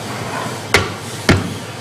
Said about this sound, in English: Now he's going to use the rubber hammer.